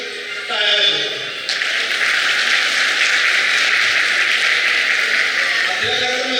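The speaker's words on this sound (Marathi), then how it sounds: "बरोबर टाळ्या वाजवा." An audience claps together at a school annual gathering, a dense, steady roar of applause filling the hall after a brief voice at the start, loud and continuous.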